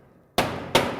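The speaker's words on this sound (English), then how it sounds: "you just want to take a mallet and just tap it, and that kind of seats it and holds it in place" A mallet strikes the back sheet of a riveted shelf twice, seating it in place. The two sharp, close metallic clangs come about a third of a second apart, and each rings on briefly after the quiet start.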